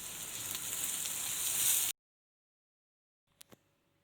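Onions and green chillies sautéing in a pan for a chicken roll filling: a close, steady sizzle that swells for about two seconds and then cuts off, followed by silence and two faint clicks.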